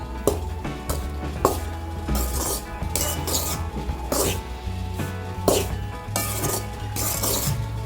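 Bajra flour is dry-roasted in a pan, with a spatula clinking and scraping against the metal in irregular, close strokes and a low hum underneath.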